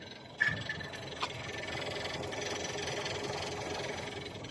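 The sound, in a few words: Volkswagen EA211 1.4T engine rhythmic ticking knock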